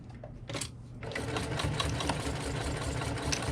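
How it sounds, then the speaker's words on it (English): A sewing machine stitches a seam on a vinyl tote bag, starting with short bursts and then running in a steady, close, rapid mechanical whir for the rest of the clip. "back stitch at the beginning, and back stitch over the seam."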